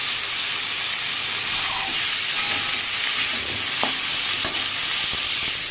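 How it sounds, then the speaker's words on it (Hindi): Chopped banana blossom with green chillies sautéed in a pan, a continuous close hiss and sizzle with a few soft stirring scrapes and taps of the utensil. "अभी आइए इसको हम अच्छे तरह से भूनते हैं।"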